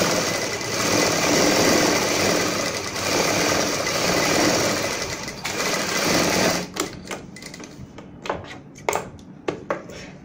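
A sewing machine runs in a long continuous burst stitching a blouse with buckram, then stops and gives several short stuttering runs, close and loud.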